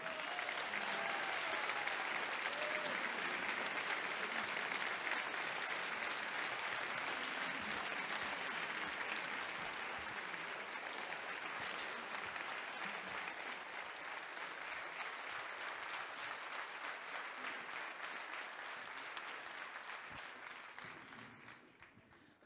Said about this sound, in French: Je vous demande des tonnerres d'applaudissements pour Zoé Constantopoulou.